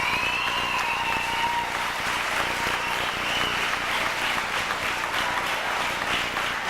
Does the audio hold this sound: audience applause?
yes